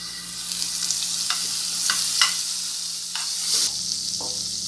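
Spoonful of margarine sizzling and frying in a pan while being stirred for coxinha dough, a steady close hiss with a few scraping stirs and no talk.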